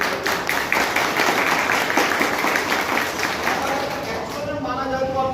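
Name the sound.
audience applause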